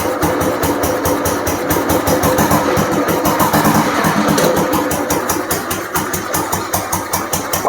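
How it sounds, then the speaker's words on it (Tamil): A fully restored 1968 Royal Enfield Bullet motorcycle engine idles loudly up close, its single-cylinder exhaust thumping in a steady, even beat throughout, with no talking over it. "வண்டி ஸ்டார்ட் பண்ணி காட்டுறேன் பாருங்கள் எப்படி இருக்குன்னு சொல்லி."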